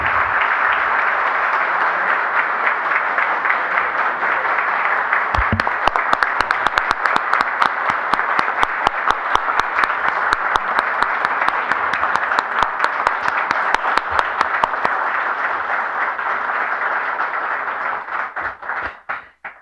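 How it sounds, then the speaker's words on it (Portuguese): Crowd applause in a legislative chamber session honoring military police officers: sustained, dense clapping from many people, building into rhythmic unison clapping midway before tapering off at the end. "eu peço uma salva de palmas."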